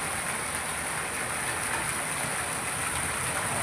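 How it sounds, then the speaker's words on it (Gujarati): Heavy rain driven by strong wind in a village farming area makes a dense, continuous roar. The hiss is loud and unbroken, with no voices. "જબરજસ્ત પવન સાથે વરસાદ પડી રહ્યો છે."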